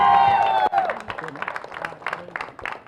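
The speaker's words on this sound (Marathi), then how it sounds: "जरा जोरदार टाळ्या झाल्या पाहिजेत" Applause from the crowd at a village open tennis-ball cricket tournament prize distribution in Kolhapur district, a dense burst of clapping that swells after a brief announcer's voice and carries on steadily with some cheering.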